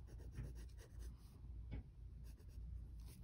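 A pencil eraser rubs back and forth on sketch paper in short scratchy bursts, close and fairly quiet, with a faint steady hiss behind it.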